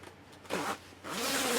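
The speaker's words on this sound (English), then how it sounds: "Okay, that zips up." A zipper on a boat guard cover is pulled closed in two quick, close strokes, the second one longer and rising, heard alone with no talk.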